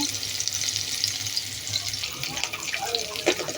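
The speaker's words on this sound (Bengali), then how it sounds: "পেঁয়াজ কষানোটা হয়ে গেছে।" Onions sauté in hot oil in a pan, giving a continuous close hiss and crackle with faint stirring scrapes. The sizzle stays even throughout and no one speaks.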